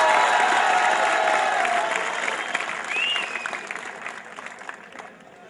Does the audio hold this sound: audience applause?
yes